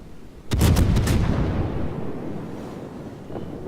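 Naval gunfire in the video game World of Warships: a sudden loud salvo of several quick booms rolls into a long rumbling decay over wind-like sea noise, with a faint later thump.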